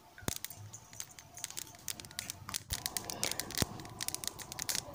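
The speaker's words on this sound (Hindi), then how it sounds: "चटकने की आवाज़ आ रही है। अब हमारी अलसी तैयार हो चुकी है, भून चुकी है।" Flax seeds dry-roasting in a pan give off quiet, irregular crackles and sharp little pops, scattered densely across the whole stretch with a few louder snaps.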